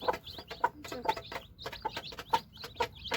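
Village hens cluck softly near newly hatched chicks only a few hours old, whose steady high peeping chirps repeat close by without talk.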